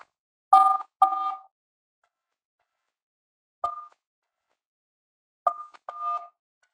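A few short, clean keypad tones from a phone line as an 11-digit callback number is entered into an automated system, sounding in three loose groups with long silent gaps between them.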